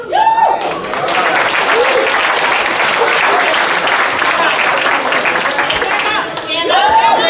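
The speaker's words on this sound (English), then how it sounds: "we're going to start with an A clap" A crowd at a UCLA Bruins basketball pre-game dinner party performs the A clap, loud sustained clapping and cheering close by, with brief whistle-like tones or voices rising at the start and near the end.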